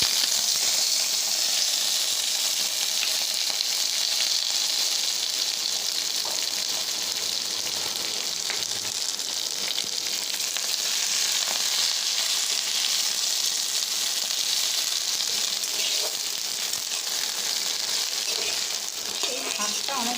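Chopped leafy greens fry in a pan with a continuous bright sizzle and crackle, loud and close for the whole stretch, with occasional soft stirring and no one talking.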